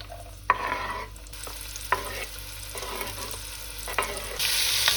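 Onions frying in hot oil in a pan for Neapolitan Sunday ragù, a steady sizzle broken by a few sharp stirring scrapes, with the sizzle growing louder toward the end; no talking.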